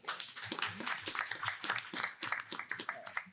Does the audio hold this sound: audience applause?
yes